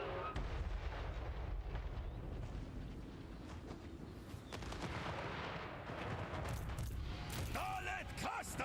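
Artillery units firing in the video game Total War: Warhammer 3, a dense stream of booming shots and blasts over rumbling battle noise, with voices calling out near the end.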